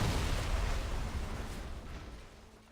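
A deep rumbling explosion booms in a video game scene, a heavy low roar that starts loud and slowly fades away over a few seconds, with no voices.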